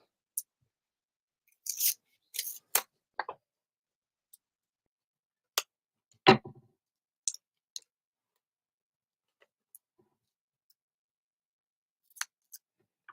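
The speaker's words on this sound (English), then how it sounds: "those scissors cut through it like a dream." Sharp scissors snip through craft material in scattered single cuts and short clusters of crisp blade clicks, close and clear against a quiet background.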